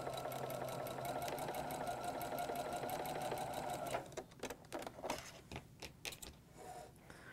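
A sewing machine chain-piecing flying geese quilt units, running in a steady continuous stitching rattle for about four seconds, then stopping and giving way to handling clicks and fabric rustles.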